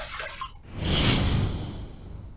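Water splashes and runs at a sink as a razor and face are rinsed after a shave, a brief close rush that swells and then fades, with no talking.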